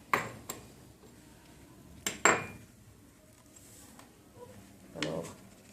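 Iron and sulfur powder mixture stirred in a glass beaker gives a few sharp clinks and scrapes, scattered and fairly faint against a quiet room.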